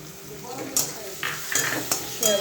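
Chopped tomato goes into spicy okra frying in a pan: a soft, steady sizzle with a spatula scraping and clinking against the metal in several sharp strokes, close by.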